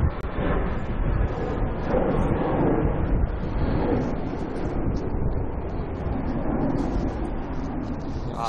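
Wind at Manchester Airport buffets the microphone, a continuous rushing roar that rises and falls in gusts for the whole stretch.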